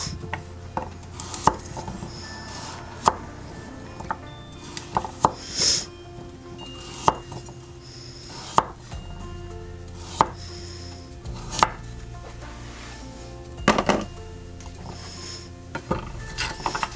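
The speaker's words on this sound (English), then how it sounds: "I'm using 2 medium-sized carrots, but I'm only cutting one on camera" A knife chops carrots into rolling wedges on a board, producing sharp, evenly spaced thunks every second or so with faint rolling and handling sounds between cuts, close and without talk.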